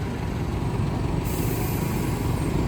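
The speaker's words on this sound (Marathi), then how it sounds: "ही रॉयल मेलची गाडी" A Royal Mail delivery vehicle passing on a UK street gives a loud, steady engine rumble with a broad road hiss that holds close throughout, with no voices over it.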